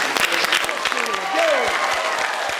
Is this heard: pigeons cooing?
no